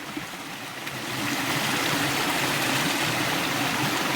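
The Champagne River in Saint Ann, Jamaica rushes close by in a continuous broadband wash that swells after the first second and then holds steady.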